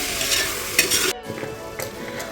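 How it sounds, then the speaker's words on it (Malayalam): Tomatoes sauté in a pan, close and fairly loud: a bright sizzle with quick scraping stirs, a brief dip in the middle before the frying hiss resumes. "അപ്പം നമ്മുടെ ടൊമാറ്റോസൊക്കെ വഴണ്ട് വന്നിട്ടുണ്ട്"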